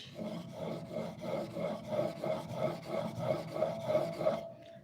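A blade being sharpened on a wheel, with a soft rhythmic rasping sweep repeating about twice a second over a steady faint whir, fairly quiet and close, no talking.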